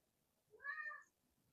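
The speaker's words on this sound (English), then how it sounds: "Sorry guys, I have a needy cat." A domestic cat gives a single short, quiet meow indoors, heard alone against near silence.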